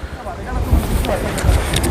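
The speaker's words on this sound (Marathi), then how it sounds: "खूप वारा आहे इथे" Strong wind buffets the microphone with a continuous low rumble and gusty roar, swelling slightly at times in an open outdoor space at a valley viewpoint by the Ajanta Caves.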